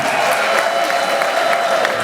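A crowd at an investiture ceremony ululates and cheers for the central committee, a dense, steady wall of shrill trilling voices and shouting that stays loud and even throughout.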